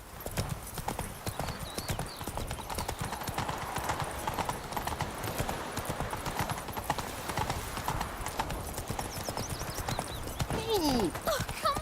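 Roach, the horse in The Witcher 3, trots with steady rhythmic clip-clop hoofbeats close by and fairly loud throughout, over soft game ambience.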